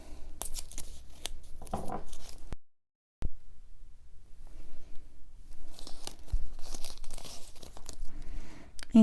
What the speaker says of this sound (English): So I'm going to be taping it,